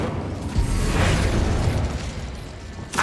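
An Incendio fire spell in Hogwarts Legacy is cast with a dense, roaring whoosh and low rumbling burst lasting a few seconds, ending in a brief final pop.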